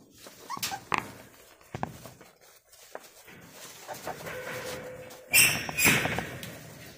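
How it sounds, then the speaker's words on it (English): Dogs whimper and yelp in a yard among farm animals, short high cries scattered over quiet moments, with a clucking chicken or bird call rising near the end. "Time for the pups to go back in the house."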